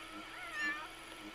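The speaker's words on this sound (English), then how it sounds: "The cat's right there, October in the bathroom." A cat in The Sims 4: Cats & Dogs gives a single short meow that swells and fades, moderately loud over a soft steady game background, with no talking.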